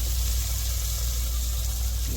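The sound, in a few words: sautéing onions and tomatoes in a pan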